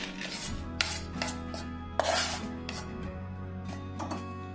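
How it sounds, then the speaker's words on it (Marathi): Roasted dal and sesame seeds are scraped and tipped from a pan onto a plate, with repeated close metallic scrapes and a few sharper clinks over a low background hum. "भाजून घेतलेले डाळ व तीळ मी ताटात काढून घेते आहे।"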